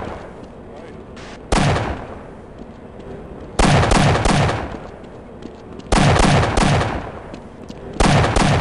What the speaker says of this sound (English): Yep, they're shotguns. Well, makes sense. That's a shotgun.